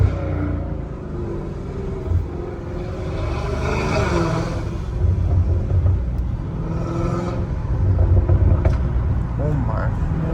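Deep, aggressive exhaust rumble from a Dodge Hellcat Redeye with aftermarket exhaust, driven on city streets, a steady loud drone with swells of acceleration under the cabin voices talking.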